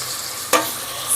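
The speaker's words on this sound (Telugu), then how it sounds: "ఇప్పుడు మనము కొంచెం అల్లం వెల్లుల్లి పేస్ట్ వేసుకోవాలండి." Ginger garlic paste hits hot oil in a pan while bagara rice is being cooked, giving a short bright sizzling burst midway and a second rising sizzle at the end over a quiet hiss.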